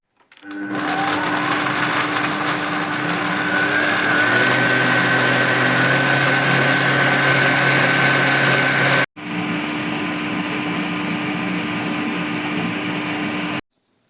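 A blender whirs steadily as it mixes strawberries and milk into a smoothie, a loud continuous motor drone running for about nine seconds, cutting out briefly, then resuming for several more seconds before stopping.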